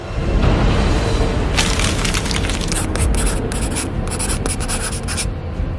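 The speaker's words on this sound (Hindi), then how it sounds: "टेबल पर रखे कागज की आवाज हुई" Paper rustles and crackles on a table as an audio drama sound effect, a dense, loud, continuous crinkling lasting several seconds with no voice over it.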